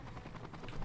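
Vertibird aircraft in Fallout: New Vegas hovering overhead, a steady, droning rotor hum filling the brief moment with constant, fairly loud broadband chopping and no talk over it.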